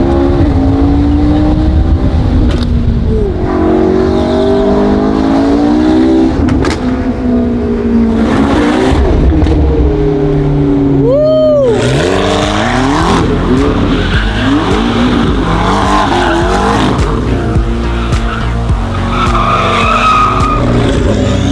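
A straight-piped V12 Ferrari screams at high revs, loud and continuous, with a rising and falling wail and a sharp whooping sweep midway as the engine climbs and drops through the revs.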